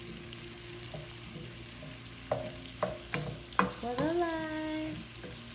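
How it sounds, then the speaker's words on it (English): Onion and seasoning frying in a pan while being stirred: a low steady sizzle with scraping and clacking of a utensil, the sizzle swelling after the stirring, under a brief spoken remark. "So let that onion cook down up in there."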